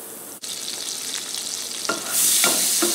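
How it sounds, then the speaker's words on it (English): Butter sizzling and frying in a hot pan on the stove before an egg goes in, a steady close crackle that grows louder near the end, with a few light clinks. "let's drop a little butter in there"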